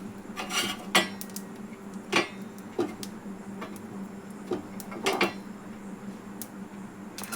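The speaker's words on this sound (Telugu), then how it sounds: "వెల్లుల్లి వేసుకుంటున్నా." Garlic is added to a pan while spices are prepared for a hot, spicy ginger and black pepper soup. Light, irregular clinks and taps of utensils sound close by over a quiet background, with no talking.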